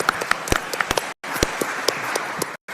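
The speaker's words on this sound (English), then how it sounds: "Let's have a round of applause." People at a UFO disclosure forum give a round of applause, a dense patter of clapping broken by two abrupt brief gaps of near silence, with a few sharper claps standing out.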